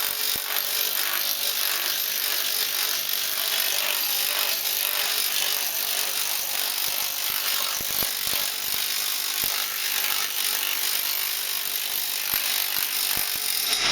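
Planishing hammer machine working sheet metal in a shop, a steady dense rapid hammering clatter running throughout at a constant level, close and loud, with no voices.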